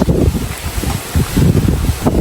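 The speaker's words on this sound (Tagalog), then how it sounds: "Lakas ang hangin." Strong wind buffets the microphone in loud, rumbling gusts, steady throughout with no voices.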